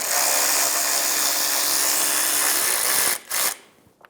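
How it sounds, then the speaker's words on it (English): A power tool spinning out a 10mm socket bolt holding a plastic shield under a Toyota Camry, a steady loud whirring buzz for about three seconds, then a brief pause, a short final burst and a quick stop. "Using a 10mm socket, remove the bolt for the plastic shield."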